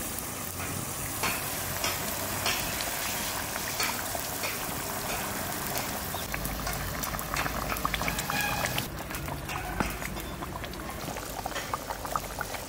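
Rohu fish simmers in a mustard curry gravy, bubbling continuously and fairly loudly, with a busy, crackling boil and occasional light splashes throughout.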